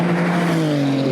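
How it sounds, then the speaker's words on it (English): A Porsche GT2 RS race car on a flying lap gives a loud, close, sustained engine howl whose pitch drifts slowly downward throughout the short moment. "flying lap for the Porsche"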